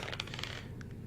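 Dice rolled for character stats in a tabletop role-playing game clatter in a quick run of sharp, close clicks over the first half-second, then two lighter taps as they settle.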